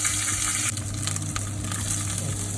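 Ginger garlic paste sizzles in hot oil while Malwani dishes are cooked, a steady, bright frying hiss that holds close and even throughout, with a slight shift in texture early on.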